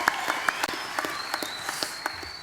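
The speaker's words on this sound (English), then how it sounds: "A round of applause for them" Audience applause for contestants at a young farmers' competition grand final, scattered claps at a moderate distance with a few sharper hand slaps standing out.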